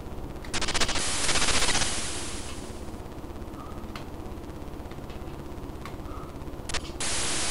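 Gunfire from the Amstrad CPC game Asphalt: a harsh burst of noisy machine-gun-like rattle early on, then a steady hiss with scattered clicks, and another noisy burst near the end.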